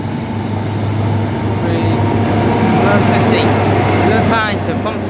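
A C16 train pulls out of Swindon station in Wiltshire with loud, steady rumbling and the rising whine of its motors. Station noise carries throughout, and people talk nearby.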